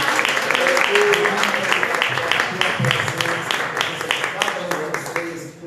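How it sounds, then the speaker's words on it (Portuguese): A worship congregation at an evangelical church service claps in praise, loud sustained applause mixed with voices and cheering throughout. "Salve de palmas para Deus."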